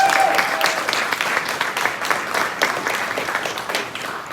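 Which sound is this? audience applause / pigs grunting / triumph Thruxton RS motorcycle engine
audience applause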